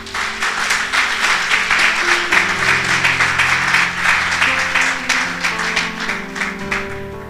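A church congregation at a Sunday service claps together, loud and rhythmic, while sustained music tones from instruments play beneath the applause.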